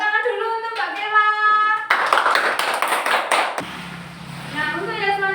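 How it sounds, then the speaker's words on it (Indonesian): Classroom applause for a student, a dense burst of clapping lasting a couple of seconds, with a teacher's voice speaking before and after it. "Tepuk tangan dulu untuk Mbak Kela."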